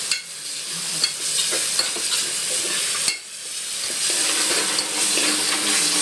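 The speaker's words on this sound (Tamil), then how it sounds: "இப்போ அடுத்து வந்து நம்ம வந்து இஞ்சி பூண்டு பேஸ்ட் போடுறோம். போட்டு கொஞ்சம் லைட்டாக மிக்ஸ் பண்ணிப்போம்." Ginger garlic paste stirred into browned onions frying in a home kitchen pan, a continuous sizzle with scraping stir strokes and a brief break midway, close and steady with no talking.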